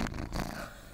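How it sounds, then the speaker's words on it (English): Cat purring up close at an animal shelter, a low, soft rumbling drone that holds steady through a brief moment. "Listen to this purr."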